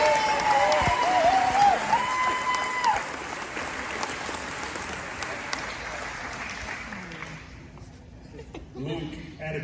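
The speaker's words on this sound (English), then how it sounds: "Please give a huge round of applause to the class of 2022." A crowd at the Allen Academy 2022 graduation ceremony applauds the graduating class, broad sustained clapping with some voices mixed in near the start, gradually fading toward the end.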